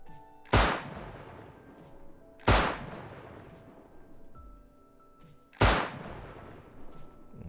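Three spaced revolver shots from the survival game Rust ring out alone, each a sharp loud crack with a short decaying tail, about two to three seconds apart.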